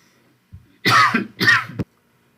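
Two harsh coughs in quick succession from a nearby person, preceded by a small throat sound, with silence on either side.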